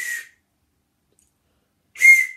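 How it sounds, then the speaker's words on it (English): A Wolfenstein 2 branded whistle from a Loot Crate gaming box is blown twice, two short shrill blasts up close separated by about two seconds of silence. "works as a whistle does when you put it the right way"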